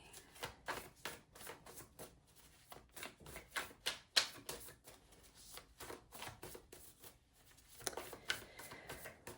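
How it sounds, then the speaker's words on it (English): A deck of oracle cards being shuffled by hand, quiet close riffles and soft flaps in quick repeated bursts with brief pauses between them, no talking. "It's a lot of shuffling."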